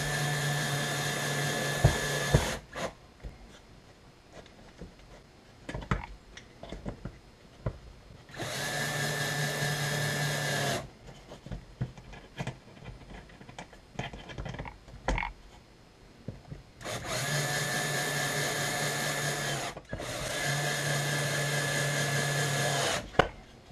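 Power screwdriver driving screws into a wooden birdhouse kit, with four steady whirring runs of two to three seconds each at close range, separated by quieter clicks and handling noise.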